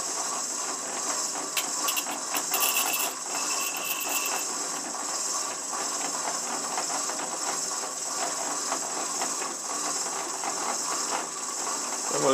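Shopsmith multipurpose woodworking machine with worn quill bearings spinning at 250 RPM, a steady close mechanical hiss and whir with faint rattling, running continuously with no talk.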